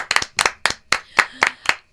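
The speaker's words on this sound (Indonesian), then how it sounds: "Lo tepuk tangan kenapa?" Hand clapping in a quick, uneven series of sharp claps, close and fairly loud, with no talking.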